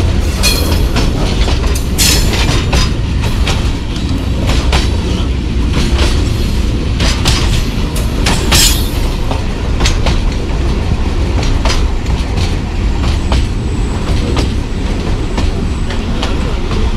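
A Pakistani passenger train on the Jand line approaches Basal Junction, heard from inside the guard van: a loud, continuous rumble with rhythmic wheel clatter and occasional faint squeals, steady throughout.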